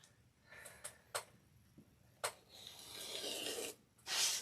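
Rotary cutter or blade trimming quilt fabric against a ruler on a cutting mat, quiet close scrapes and clicks with a short rasping cut near the end.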